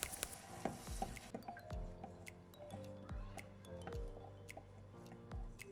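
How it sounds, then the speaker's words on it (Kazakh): Melting butter and honey being stirred in a pot, giving soft wet squishes and light clinks of a utensil against the pot at an unhurried pace, quiet and close. "Жақсылап ерігенше араластырамыз"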